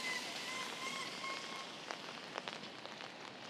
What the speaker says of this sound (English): sound of the rain.